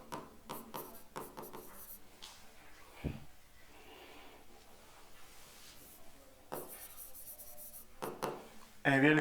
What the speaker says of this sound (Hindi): एक सेकंड के नाम लिख लेते हैं थोड़ा सा